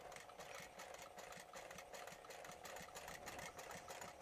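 A sewing machine backstitches a seam on a crossbody pouch, its needle chattering in a fast, even, continuous rhythm close by with no talking.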